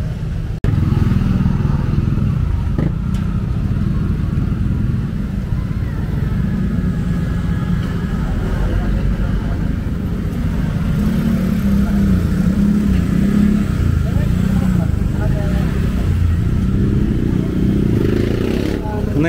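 Loud, continuous engine rumble and revving from unmuffled motorcycles in a village in the Philippines, steady and close throughout, with traffic clatter and some voices mixed in.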